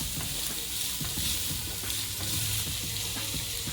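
Chopped green chillies and a piece of ginger fry with onions in hot oil, a close, continuous crackling sizzle with the scrape and shuffle of steady stirring.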